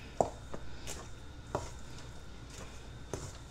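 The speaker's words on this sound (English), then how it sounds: "mix it up really good" A spoon scrapes and taps against a bowl as angel food cake mix is mixed, giving quiet, spaced knocks at close range over a low background hum.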